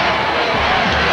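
Family and moms in the stands cheer at a 1991 Class 5A state high school football championship, a loud steady crowd roar close by without pauses.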